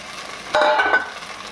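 Soaked sabudana tapioca pearls sautéed in a pan for a traditional fasting dish, a brief stir and scrape with a short burst of sizzle, close by.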